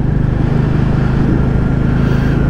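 A Royal Enfield Bullet 350 single-cylinder motorcycle engine idles with a steady, deep, throbbing pulse, close and loud, with no voices.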